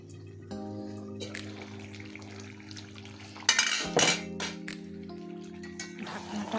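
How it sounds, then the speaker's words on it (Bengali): A lid is lifted off a pot of spicy mutton curry, giving a sharp metallic clank midway and a second knock, over a low steady hum with faint bubbling. "ঢাকনাটা খুলে দিয়েছি"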